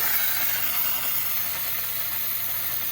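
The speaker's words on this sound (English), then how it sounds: "that is a quick demonstration of how the steamer works" Handheld steam cleaner with multiple attachments steaming continuously; a steady, close hiss with a low mechanical hum underneath, unbroken for the whole stretch.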